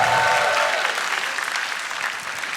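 A studio audience at a stand-up comedy show applauds comedian Bene, a full, steady burst of clapping that fades slightly over a couple of seconds.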